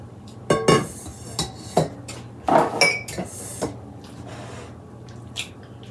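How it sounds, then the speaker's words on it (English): Scraping and clinking of a spoon against a pan as thick spinach artichoke dip is scooped in, a few soft wet thuds and clanks in a kitchen at close range, no talking. "And we're going to get this into our pan."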